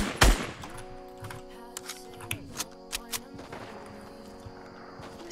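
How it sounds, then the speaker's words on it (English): Gunfire in Fortnite: a loud opening blast followed by a run of sharp, evenly spaced shots over a sustained electronic tone, with quieter clatter trailing off afterward. "Someone shooting?"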